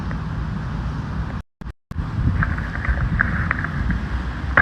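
Wind buffets a phone microphone outdoors on a walk through central Moscow, a steady low roar and rumble with two brief dropouts partway through, then gusting back up loudly.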